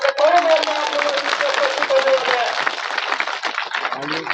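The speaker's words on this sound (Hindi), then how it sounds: "तालियों की गड़गड़ाहट के बीच" Crowd applause at an outdoor political rally for a Congress candidate in Tatija village, Khetri, with dense scattered clapping throughout under a speaker's raised voice, tapering slightly toward the end.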